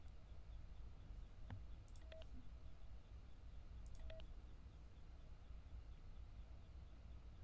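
Keypad button tones in the Five Nights at Freddy's Sister Location video game: a few short electronic beeps, spaced apart over a quiet low background hum.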